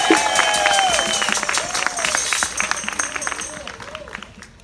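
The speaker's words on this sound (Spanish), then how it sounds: "Gran aplauso por Padre Jorge." A church congregation at a 2019 Catholic mission Mass gives a round of applause for Padre Jorge. Steady, dense clapping continues under a speaking voice and fades slightly near the end.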